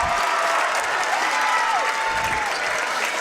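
A basketball crowd in a gym applauding and cheering after a big rebound, dense steady clapping with a thin whistle-like tone riding over it.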